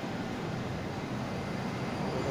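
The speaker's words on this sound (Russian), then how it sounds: "Отправляется поезд, новый поезд Москва." A new Moscow metro train pulls out of Turgenevskaya station, with a steady loud rumbling roar of motors and wheels filling the underground platform.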